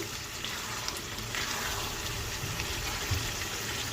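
Chicken and spices sautéing in a pan, a steady close sizzle and hiss running evenly throughout with faint stirring scrapes and no talk.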